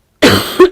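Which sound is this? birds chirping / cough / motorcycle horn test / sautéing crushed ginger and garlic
cough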